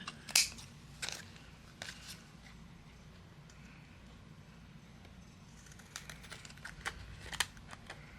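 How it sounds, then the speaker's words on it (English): Sharp, brief snips of scissors trim overhanging paper on a handmade card at irregular intervals over a low, steady background hum. "I'll use my scissors and we're going to trim away anything that's overhanging"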